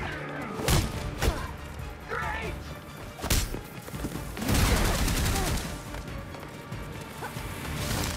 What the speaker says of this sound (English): That's a turret.